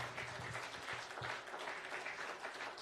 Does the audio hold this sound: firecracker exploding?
no